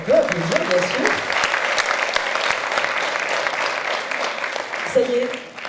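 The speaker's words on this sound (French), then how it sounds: "On peut applaudir, bien sûr." An audience at an event breaks into dense, sustained applause that holds steady for several seconds, with a voice speaking over it at the start and again near the end.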